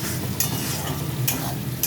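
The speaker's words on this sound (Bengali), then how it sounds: "নেড়ে চেড়ে তারপরে পুঁই শাকটা দিয়ে দেবো" Pumpkin and Malabar spinach stirred in a pan with a frying hilsa fish head: steady close sizzling with soft scraping strokes of the spatula repeating every second or so.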